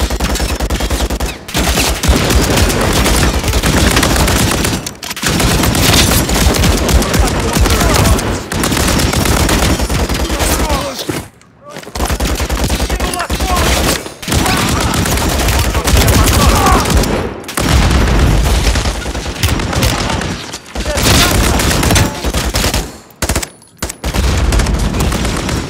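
Dense, loud bursts of automatic gunfire and explosions fire almost nonstop at a turret in Call of Duty: Modern Warfare III, with only a few brief pauses between volleys.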